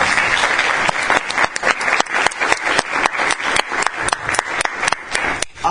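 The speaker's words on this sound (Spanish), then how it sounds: "se merece un fuerte aplauso" Applause at a press conference honouring provincial human rights organisations: a crowd claps steadily with crisp, individually audible hand claps, building to a dense, continuous ovation that fades slightly at the end.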